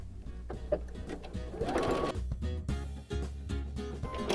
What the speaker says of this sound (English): So now I'm actually going to stitch between each row of rope.